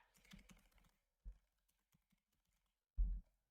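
A computer keyboard is typed on in short close bursts: a quick cluster of key clicks, then isolated taps and a final louder keystroke, in an otherwise quiet room.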